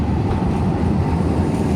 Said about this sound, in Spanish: Cuidado con el tren, cuidado con el tren. Allá viene uno.